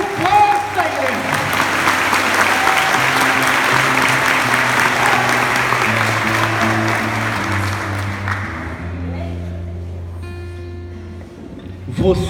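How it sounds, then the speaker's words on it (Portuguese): A church congregation breaks into loud, sustained applause over a held keyboard chord, the clapping swelling and then tapering off after about nine seconds as the music lingers and a voice returns at the end. "Aplausos com força,"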